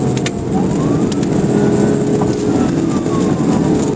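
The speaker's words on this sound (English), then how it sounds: "A white Dodge Challenger came roaring through the city, breaking the silence with the scream of a high-performance engine" A white Dodge Challenger's high-performance engine roars during a police chase through city streets, heard as a loud, sustained rumble with road noise from inside a pursuing patrol car.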